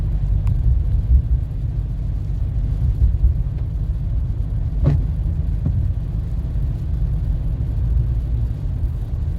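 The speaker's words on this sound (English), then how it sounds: "Car up here going extremely slow for some reason." Car creeping along a road during Hurricane Milton in Celebration, a steady low engine rumble with a faint hiss, even and continuous throughout.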